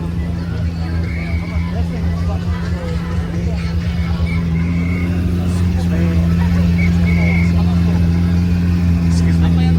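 A Lamborghini Aventador idles loudly at an outdoor car show in Japan with a deep, steady engine drone that builds slightly toward the end, while people talk nearby and a crowd murmurs.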